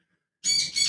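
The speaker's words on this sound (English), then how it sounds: "I'm sorry if you guys hear the bird in the background." A bird squawks indoors in the background, a sudden loud shrill burst that starts after a moment of silence, dips briefly and then rises again.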